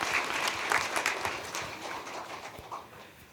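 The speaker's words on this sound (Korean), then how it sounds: "우리 다시 한번 박수로 우리 축하해 드리겠습니다" A church congregation at a Sunday worship service claps together in a warm burst of applause that gradually thins and fades over a few seconds, with no talking.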